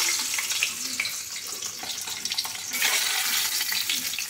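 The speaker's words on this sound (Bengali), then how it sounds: "ডিমটা ধুয়ে নিই" An egg is rinsed under a running kitchen tap, a steady splashing hiss of water that swells a little louder toward the end, with no talking.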